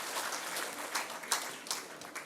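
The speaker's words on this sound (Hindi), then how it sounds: "बहुत जोरदार तालियां, और बैठ जाएंगे।" Audience at a valedictory conference session claps, a faint, distant burst of scattered applause with a few louder individual claps standing out.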